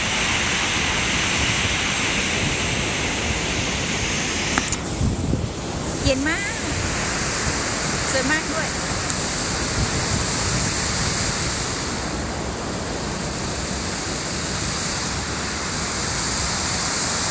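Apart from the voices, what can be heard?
waterfall in Verdal, Norway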